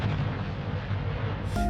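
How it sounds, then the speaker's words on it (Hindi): A loud explosion of a plane crashing into snowy mountain slopes, with a deep, sustained roaring rumble that fills the whole moment and ends abruptly. "एक तेज धमाका गूंजा।"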